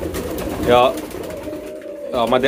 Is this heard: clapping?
no